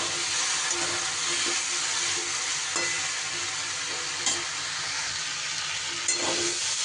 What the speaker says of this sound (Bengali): ভালো করে মশলার সাথে নাড়াচাড়া করে নিয়ে